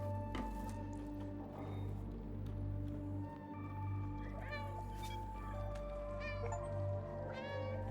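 A small cat meows repeatedly in the video game Stray, several short rising cries spread through the stretch over a steady droning game soundtrack, with faint talk in the background.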